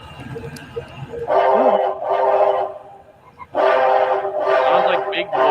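Union Pacific Big Boy steam locomotive whistle, sounded in several long, loud blasts with short breaks between them, heard close with some background noise.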